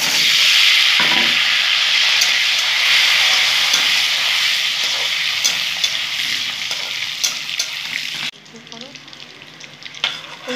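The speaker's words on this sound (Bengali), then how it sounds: "এখন আমি একদম লাল লাল করে ভেজে নেবো।" Eggs seasoned with turmeric fry in a pan with a loud, steady sizzle that fades slightly toward the end, close up and with no talk.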